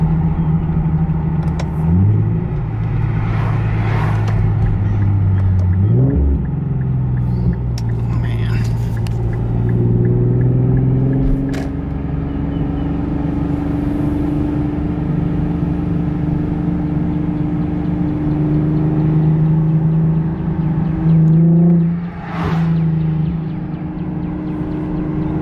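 An Infiniti Q50 engine idles and revs with a low rumble, rising in pitch a few times, while a person talks over it throughout.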